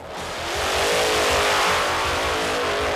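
A loud racing engine roars and revs up close, its deep rumble pulsing steadily for a few seconds.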